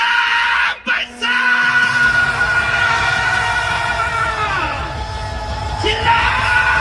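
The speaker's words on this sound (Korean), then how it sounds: "여러분 힘주고 피켓살 흔들면서 함성 발사!" Protest crowd at Gwanghwamun yelling and cheering together, a sustained, loud mass of voices with a brief break early on and a voice over a loudspeaker rising above the roar.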